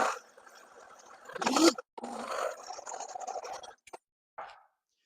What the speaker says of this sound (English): And then we're going to blend this up in the Vitamix blender.